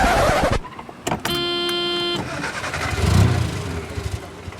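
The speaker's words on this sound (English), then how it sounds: "There's something wrong with the engine." A bus engine failing, used as a sound effect in an audio story, with brief engine bursts, a sustained mechanical whine that cuts off, and then low rumbling as voices talk.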